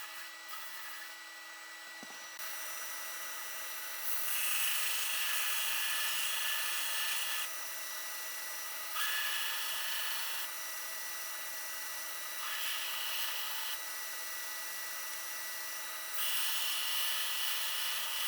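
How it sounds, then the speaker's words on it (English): A belt grinder runs steadily as flat bevels are ground in, with a dust collector humming alongside; a constant loud whir swells in repeated passes as the blade is pressed to the belt. "I'm going to grind in like just some flat bevels"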